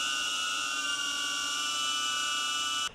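A DJI Avata 1 FPV drone flies with a loud, steady, piercing high-pitched whine that holds constant throughout and cuts off abruptly at the very end.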